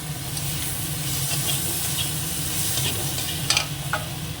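Potato and chopped tomato hit a hot, sizzling pan, giving a steady loud frying hiss with stirring, and a couple of sharp clatters near the end as the pieces go in.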